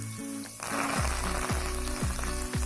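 Small garlic pieces frying in oil, a bright steady sizzle that swells as they hit the pan, with rhythmic stirring strokes recurring every half second.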